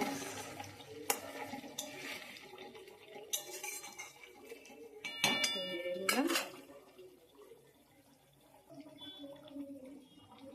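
A spatula stirs and clinks against a pan of pona fish in mustard paste, seasoned with salt, giving faint, scattered scrapes and taps over a soft kitchen background.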